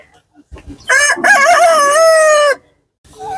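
A rooster crows loudly nearby on a farm, one long drawn-out cock-a-doodle-doo preceded by short clucks from chickens, with another call starting right after.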